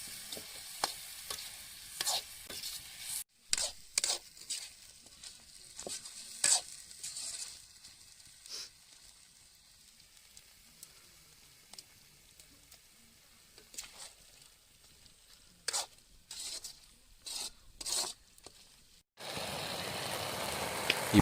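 Turmeric powder sautéing in a pan for chicken gravy, outdoors in a village setting: soft sizzling with scattered scraping and stirring clicks throughout, fairly faint, no talking.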